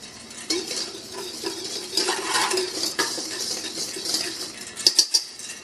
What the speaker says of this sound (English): usually get away with mixing them with a whisk